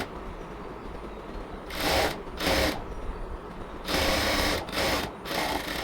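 A sewing machine stitches a frock hem in several short whirring runs, each a second or so long, separated by pauses with low background hum, close and fairly loud.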